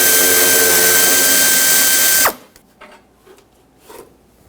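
A power ratchet zips loudly and steadily for about two seconds while backing off crusty, rusted 10mm nuts on the front upper bumper bracket of a 1995-2004 Toyota Tacoma, then cuts out abruptly, leaving faint clicks and handling noises.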